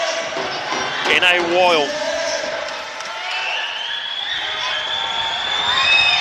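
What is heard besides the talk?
basketball crowd cheering loudly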